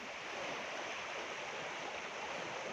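The Sutlej river runs in flood, swollen by inflow from the Swan river, and its rushing water makes a dense, continuous roar that stays even and loud with no voices.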